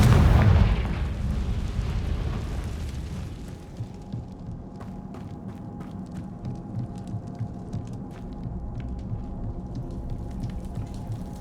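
A Confringo blasting spell from the Hogwarts Legacy video game goes off with a loud, booming explosion at the start, then fades into a low rumbling hum with scattered faint crackles.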